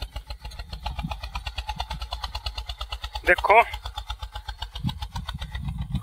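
An Eicher 241 tractor, a small 25-horsepower model, pulls a cultivator through wet soil; its engine chugs in a loud, fast, steady rhythm throughout, with someone speaking briefly over it.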